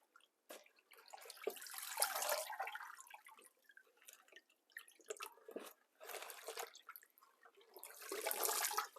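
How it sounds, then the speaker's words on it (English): Tap water runs and splashes irregularly over mustard greens being rinsed in a sink, in several bursts of spattering and dripping with quiet gaps between them. "think the water's running pretty clear now"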